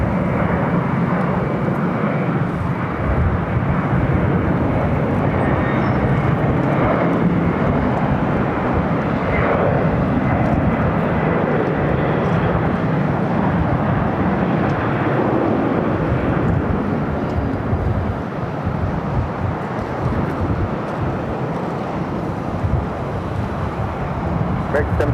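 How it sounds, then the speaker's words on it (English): A LATAM Boeing 767 airliner bound for Lima rolls down runway 7 left at LAX, its engines producing a steady, loud broadband roar throughout, with gusty wind adding to the noise. "Latam 767 heading to Lima, now rolling down to 7 left"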